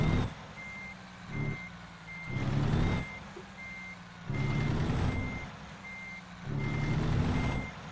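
Repeated reversing beeps from a truck in American Truck Simulator, an International Lonestar hauling a wheel loader, sound at a steady rhythm over the engine's low rumble, which swells and fades in surges.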